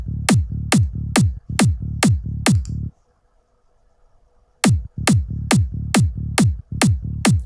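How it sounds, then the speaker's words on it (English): A kick drum and sub bass from an electronic track pulse together in a steady four-on-the-floor thump. Punchy low hits repeat, then drop out into near silence for about two seconds before the pattern returns. "So the kick and the sub relationship sounds like this."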